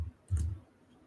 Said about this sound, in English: And I am just clicking all over the place.